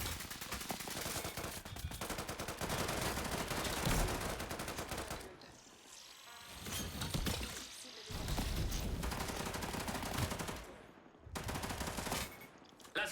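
Rapid automatic gunfire from the online shooter game Off the Grid crackles in dense, loud bursts, with short pauses between volleys and a few brief single shots.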